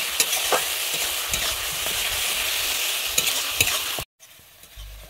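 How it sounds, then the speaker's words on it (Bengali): Tomato paste frying and being stirred with spices in a hot pan for a Bengali potol korma, a steady close sizzle with scraping stir strokes throughout, cut off abruptly near the end. "আমি টমেটোটা এবারে ভালোভাবে কষিয়ে নেব।"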